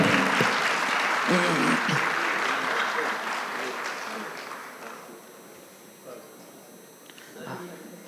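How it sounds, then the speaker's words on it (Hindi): Audience applause at a hijama symposium in a Lahore hotel, a dense wash of clapping with voices mixed in, gradually thinning and fading out, leaving scattered faint claps near the end. "तालियां आपकी रुकनी नहीं चाहिए।"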